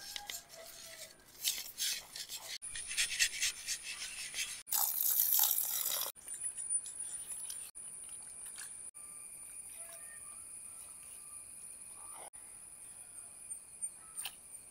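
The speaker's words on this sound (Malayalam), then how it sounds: "കല്ലുപ്പിട്ട് നന്നായി കഴുകിയെടുക്കുക" Anchovies rubbed and washed with rock salt in water, giving scattered scraping, clinking and splashing bursts of varying loudness and short gaps, with no talk.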